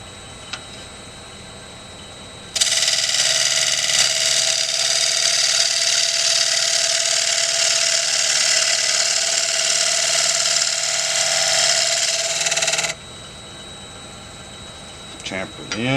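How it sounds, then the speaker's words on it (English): A half-inch bowl gouge faces off a cherry bowl blank spinning on a lathe, making a steady, loud broadband hiss and shearing rush that runs unbroken for about ten seconds before cutting off, with quieter machine hum before and after. "1/2 inch bowl gouge, we'll face it off."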